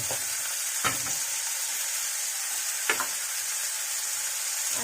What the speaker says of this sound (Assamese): এইখিনি মোৰ ভাজা লাগি গৈছে।